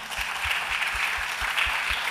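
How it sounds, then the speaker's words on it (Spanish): An audience at a colloquium claps for Armando, moderately loud applause that stays even for the whole stretch, with a faint low rhythmic thump pulsing beneath the clapping. "yo pido un aplauso para Armando."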